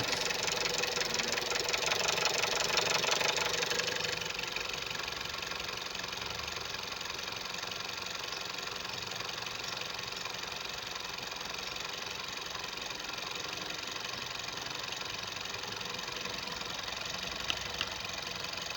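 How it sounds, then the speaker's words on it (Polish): A VW 1.2 TSI EA111 petrol engine just after an oil change starts with a rough rattle that settles within a few seconds into a steady ticking idle, heard close, with a couple of faint clicks near the end. "odpalił beznadziejnie i słychać rozrząd"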